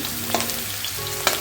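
Chopped garlic fries in hot oil for chowmein, a steady close sizzle with two sharp spitting pops as it splatters in the pan.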